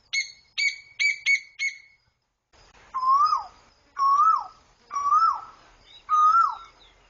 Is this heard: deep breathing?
no